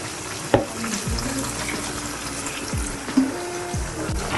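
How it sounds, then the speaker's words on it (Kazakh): A small amount of water is poured into a hot pan of kuyrdak, a Kazakh meat and potato fry, giving a steady sizzling, watery hiss with a couple of sharp clanks, fairly quiet and without talk. "Және де асты күймеу үшін мен аз ғана су құйып жіберемін."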